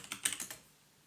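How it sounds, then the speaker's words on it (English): A short run of about five quick keystrokes on a computer keyboard, crisp and close, then a fading tail. "I'll just disconnect now by typing in exit."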